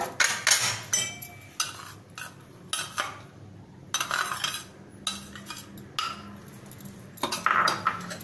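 Grated coconut with ghee, jaggery and sugar is stirred in a pan for Narali Bhat, a utensil scraping and clinking against the metal in irregular bursts with gentle sizzling, no voices.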